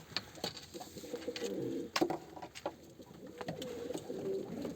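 Pigeons coo in a coop, low soft coos rising and falling across the clip with a few sharper flutters and knocks close by.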